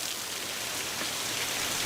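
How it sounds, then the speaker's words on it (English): Steady rain falls evenly outdoors, making a continuous hissing patter at moderate level with no voices. "This rain came out of nowhere"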